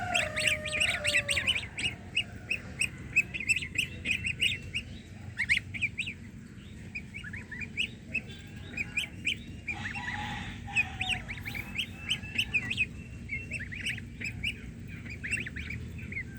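Young goslings at home, a few white and some yellow with gray, peeping and calling in high, rapid chirps that come in quick bursts throughout, close by and fairly soft, with no one talking.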